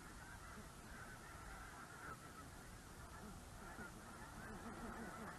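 A large flock of Canadian snow geese honks continuously, many overlapping calls forming a dense, steady chorus at a moderate distance, with no other sound standing out.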